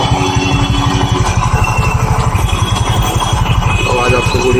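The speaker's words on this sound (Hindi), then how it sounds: "अभी हमने स्कूटी को चालू कर दिया 10 मिनट के लिए" A TVS scooter engine idles close by, giving off a steady, rhythmic low chugging that holds evenly throughout without revving.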